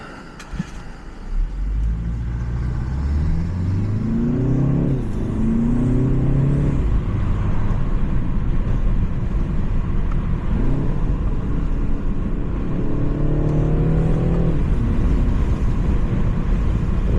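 A BMW G20 330 fitted with an aftermarket eBay intake revs in Sport Plus mode, the engine note climbing and falling in several distinct pulls over a steady rumble and wind.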